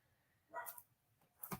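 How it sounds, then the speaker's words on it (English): A dog barks in a few short bursts, one around the middle and another near the end, moderately close in a quiet indoor room. "And the dog is barking, of course."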